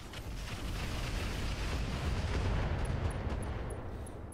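Weapons fire from giant mechs in the BattleTech mod Roguetech: a sustained, dense roar of rumbling, steady barrage with no clear separate shots, and faint high beeps near the end.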